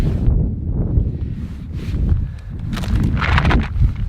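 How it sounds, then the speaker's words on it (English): Steady outdoor wind buffeting the microphone on a hill in the Moffat Hills, a broad low roar with gusts rising and falling throughout, no voices. "I wasn't expecting it to be quite so windy."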